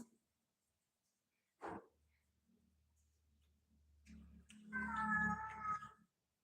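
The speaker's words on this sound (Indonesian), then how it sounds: "Cuman itu kucing itu tidak mau diam itu." A restless cat meows indoors: a short, faint call comes first, then after a low hum a louder, drawn-out meow rises and wavers before fading. No one speaks.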